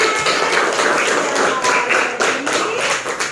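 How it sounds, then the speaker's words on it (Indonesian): A group claps for a presenter in a classroom-style session, a dense, steady patter of hand claps running throughout with no talk over it. "tepuk tangan buat Mbak Ika."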